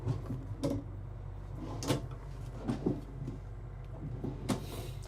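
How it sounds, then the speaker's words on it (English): Storage drawers in the bathroom of a 2026 Renegade Explorer 40ERB RV slide open and shut, giving a few soft knocks and clicks over a low, steady hum. "We have 3 more storage drawers here on the side."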